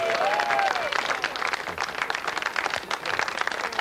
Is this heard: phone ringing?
no